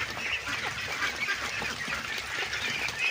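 Domestic ducks feeding on azolla, a steady busy chatter of dabbling, slurping and soft quacking calls from the flock, continuous and fairly close with no voices.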